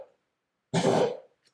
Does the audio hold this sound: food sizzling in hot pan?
no